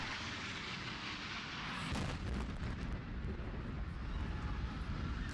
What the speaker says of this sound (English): Huge explosion.